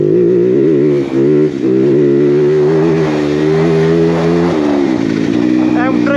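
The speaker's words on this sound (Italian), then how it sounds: "Adesso se posso vi faccio anche sentire un allunghino della TM." A TM enduro motorcycle engine revs hard at a regional enduro race in Lombardy, a loud, close, sustained harmonic drone that rises and holds through several pitch shifts, with voices faintly underneath.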